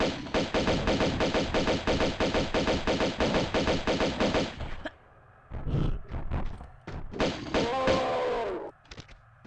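Rapid automatic gunfire from a weapon in the video game Tomb Raider II, a dense burst of shots for several seconds, then a pause and a few heavier isolated blasts and thuds, loud and close.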